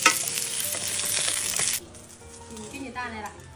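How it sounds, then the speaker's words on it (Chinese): Scallion and pork pancakes fry in a flat pan over low heat, a loud close sizzle that drops off sharply partway through, leaving faint crackling and a few clinks. "小火慢慢煎着"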